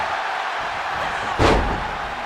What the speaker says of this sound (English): Textbook scoop slam